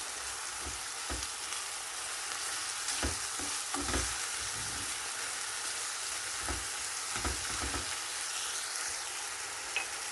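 Stale bread with tomato and salt sautéing in a pan: a steady sizzle with scattered scraping stirs from a utensil, close and continuous, and no voices.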